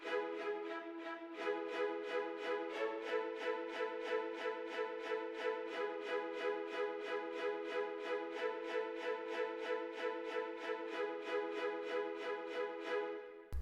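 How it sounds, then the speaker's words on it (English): A virtual orchestra's violins play spiccato, a steady run of short bouncing detached strokes in an even quick rhythm over about thirteen seconds, close and clean with no voices. "You got the spiccatos, which sounds like this"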